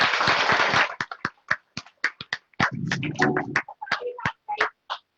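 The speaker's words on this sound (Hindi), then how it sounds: "पिछले महीने के आउटलेट अचीवर के लिए जोरदार तालियां होनी चाहिए" Scattered hand claps for last month's outlet achievers at a team success celebration, starting as a dense burst of clapping and then thinning into separate, uneven claps with some low murmur underneath.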